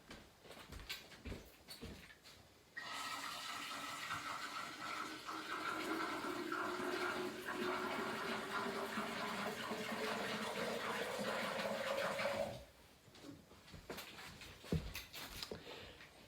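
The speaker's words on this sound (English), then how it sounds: "Okay, let me refill my pitcher." Tap water runs steadily into a pitcher for about ten seconds, a loud continuous rushing pour whose tone rises slightly as the vessel fills, then shuts off, leaving faint room sounds.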